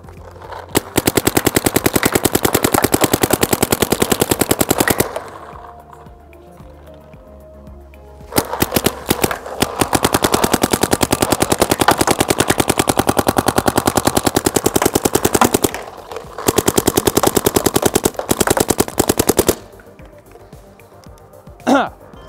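Rapid bursts of fire from a Planet Eclipse Etek 5 paintball marker, three long strings of fast shots with short pauses between, heard up close as a rolling, thudding rattle rather than sharp bangs.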